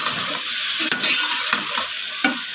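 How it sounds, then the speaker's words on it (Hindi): Chicken fries in a pan over low heat for a tinda gosht dish, giving a continuous close sizzle broken by several scraping stirs of a utensil, with no voices. "चिकन डाल के भी मैं उसको भून लेती हूँ, हल्की आंच पे इसको भून लूँगी।"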